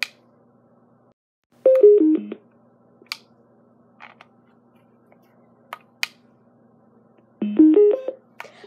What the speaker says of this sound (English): it makes the noise of my phone, so like the text noise when you put your password or something.